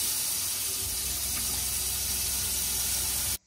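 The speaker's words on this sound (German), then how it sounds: "Man hört jetzt eindeutig, das Wasser läuft." Steady gushing water from a tap running into a wastewater drain tank in a vehicle, continuous close hiss that cuts off abruptly at the end, with no talk.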